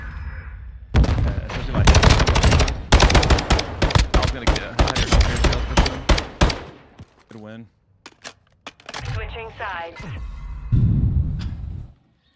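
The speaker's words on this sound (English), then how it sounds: "I hear my bomb." Call of Duty: Modern Warfare 2 gunfire, with rapid automatic bursts and single shots close up for several seconds, then quieter game effects; a player talks over parts of it.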